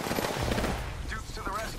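Gunfire in the Apex Legends video game: a dense, rapid burst of shots at the start that fades into quieter game sounds and a few tonal electronic effects.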